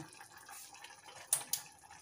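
Water is poured in, a soft steady trickle and splash at low level, with two short sharper splashes close together near the end.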